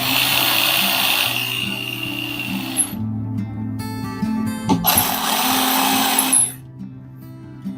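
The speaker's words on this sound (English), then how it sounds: "If the receptacle is cockeyed, you can bend it with your finger, your hands, and then let the screwdriver do the work." A powered screwdriver drives screws into an electrical wall receptacle, whirring in loud sustained bursts with a short pause in between, close to the listener with no talking.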